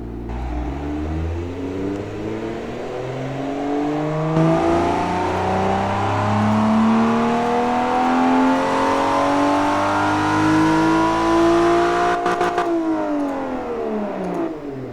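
A car engine with long Tudor headers, one straight-through muffler and no rear muffler, built in Automation, holds a steady, throaty idle that rises and falls in gentle revving sweeps, loud and close, with no talk.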